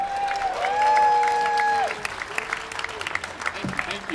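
Rally crowd at a Hands Off Assange event in DC clapping, with a long tonal whoop or cheer soaring over the applause early on and shouts punctuating the steady patter of hands.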